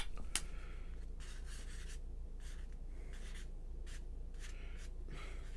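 Pen or pencil scratching across paper in quick intermittent strokes, close and quiet, with no talking.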